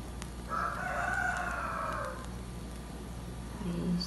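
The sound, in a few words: rooster crowing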